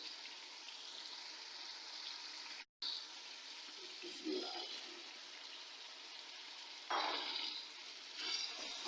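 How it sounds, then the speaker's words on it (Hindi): Potatoes frying in a pan for chicken biryani, a steady hiss of sizzling oil with brief stirring scrapes and a short break partway through, close and moderately loud with no talk. "आलूओं की भी अच्छी तरह भुनाई कर लेती हूँ"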